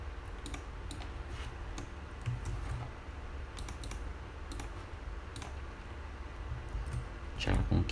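Computer keyboard typing while text is entered for a social media graphic design, clicking keystrokes in irregular bursts over faint background noise, with a louder cluster near the end.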